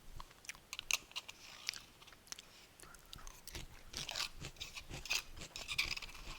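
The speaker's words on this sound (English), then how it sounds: "I hope everyone can hear my chewing." Quiet, close chewing of food with irregular crunchy bites and mouth clicks scattered over several seconds, no voices.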